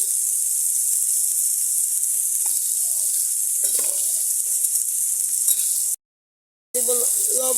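Chickpeas frying with turmeric in a pan, a loud continuous close sizzle with occasional stirring scrapes, briefly cut off near the end before resuming.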